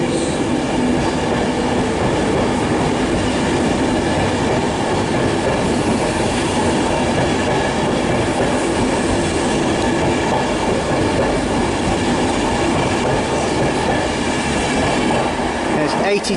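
An Intercity 91 electric locomotive hauls a Virgin Trains East Coast service to Edinburgh out of Newcastle station, a loud steady roar of rolling wheels and clattering rail joints, close and continuous.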